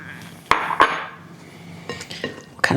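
Broccoli salad with red onion and cheddar being tossed in a bowl: a few sharp clinks of utensils against the dish, followed by softer rustling scrapes, close by and fairly quiet, with no talking.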